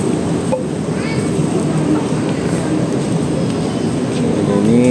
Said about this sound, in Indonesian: Kereta api Majapahit masuk stasiun di Madiun.